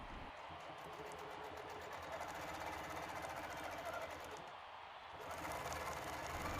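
Sewing machine quilting with a ruler held behind the needle, a steady rapid mechanical hum of stitching that runs throughout at moderate volume with a brief dip near the end.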